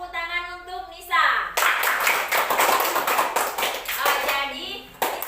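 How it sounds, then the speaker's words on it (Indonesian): A classroom of children clapping for a classmate after she shares how she helps make onde-onde, a burst of hand claps that fades and then returns, with children and a teacher talking around it. "tepuk tangan untuk Nisa"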